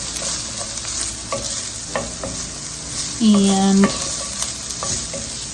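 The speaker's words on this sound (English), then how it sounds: "let that saute for a minute or two, just until you can smell that garlic." Onion and garlic saute in a pan for sloppy joes, giving a steady close sizzle with scraping stirs throughout; a short tonal beep cuts in midway and a voice speaks one brief word.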